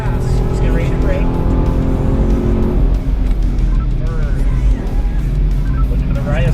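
A car driven fast on a racetrack at Spring Mountain Motor Resort roars loudly into turn one, engine revving then easing as it brakes, tires squealing under the closing note, with a voice talking over the engine.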